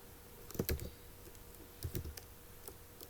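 C code being typed on a computer keyboard comes through as two quick clusters of close, crisp key clicks and taps in a quiet room, with a few lighter isolated keystrokes between them.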